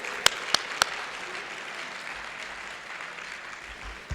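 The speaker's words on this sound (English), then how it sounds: "Please give him a hand of applause." Scattered audience applause at a gala dinner, a few sharp close claps at the start over a continuous wash of clapping from the room that carries on steadily.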